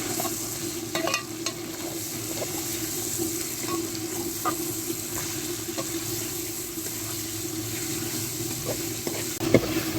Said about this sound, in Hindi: अच्छी तरह से कीमे को भूनेंगे